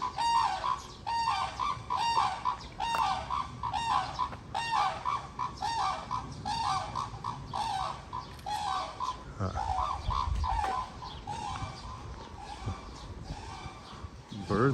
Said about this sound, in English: Birds are not happy.